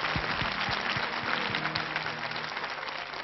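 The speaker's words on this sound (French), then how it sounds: "On l'applaudit, Sandy." A television studio audience applauds a young contestant named Sandy, a dense, steady wash of clapping that holds for a few seconds and eases slightly toward the end, with no talk over it.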